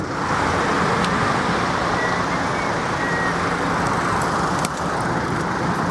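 Traffic jam on the Autobahn near Cologne, a steady dense roar of idling and slowly moving cars and trucks, loud and close, with faint beeps and no talk.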